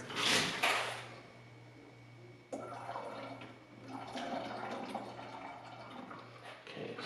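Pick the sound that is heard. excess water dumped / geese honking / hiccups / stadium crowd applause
excess water dumped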